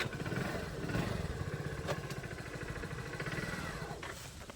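A motorcycle engine revs steadily with a busy, clattering throb as the clutch is released, running loud and near the whole time; voices are faintly mixed in.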